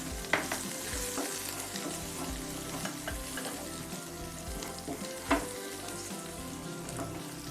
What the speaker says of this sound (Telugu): ఉడికించిన మ్యాష్ చేసి పెట్టుకున్నాం కదా ఆలుగడ్డల్ని ఇవి దీంట్లో కలుపుకొని ఫ్రై చేసుకోవాలి